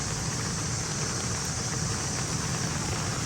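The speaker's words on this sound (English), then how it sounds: "it's finally started to rain" Steady rain falls in a camp surrounded by trees, a dense, even hiss that fills the whole stretch with no breaks and no voices.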